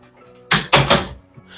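A house door opened during a break-in, with a few sharp knocks and thumps in quick succession against quiet surroundings.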